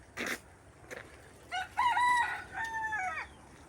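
A rooster at a village house crows once, clear and fairly near, a long rising and falling call after a few brief outdoor knocks.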